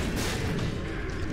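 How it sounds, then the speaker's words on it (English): Double bombs exploding in The Binding of Isaac, a quick burst of muffled booms packed into dense, continuous game noise. "2020 is dropping double bombs, which is disgustingly powerful."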